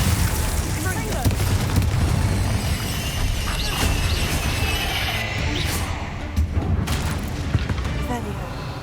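A Confringo fire spell blasts repeatedly in Hogwarts Legacy on PlayStation, giving dense, continuous booming explosions with crackling debris that fill the whole stretch, loud and close.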